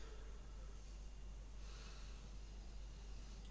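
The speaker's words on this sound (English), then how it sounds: "Trying to give it a good sniff without getting any on my nose." A person sniffing a glass of BrewDog 5am Saint American Red Ale, giving one long, close inhale over a steady low hum. There is no speech.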